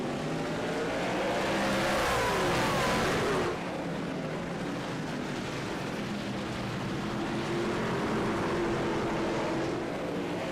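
Engines of NASCAR trucks in an iRacing race on the Charlotte Roval road course roar together at the green flag, a loud dense pack drone with rising pitch sweeps for the first few seconds, then a steadier, slightly quieter multi-car hum.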